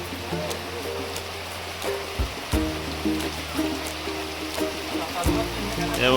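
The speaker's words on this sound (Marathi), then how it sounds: "पाऊस चालू झालेला आहे" Rain falls over a village, a continuous wash of patter with scattered sharper drips and occasional low thumps.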